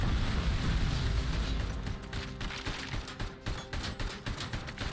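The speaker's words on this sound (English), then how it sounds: "That's a rocket launcher." Rocket launcher fire in Robocop: Rogue City, a heavy rumbling blast that fades into rapid crackling shots and debris, loud and close, with no talking.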